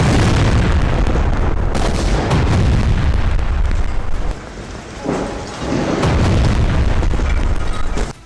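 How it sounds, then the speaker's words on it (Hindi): A heavy, rumbling blast near Al-Shifa hospital in Gaza, loud and close, with a deep roar that briefly dips and then surges again as rolling booms continue. "इससे महज 100 मीटर दूर बड़ा विस्फोट होता है।"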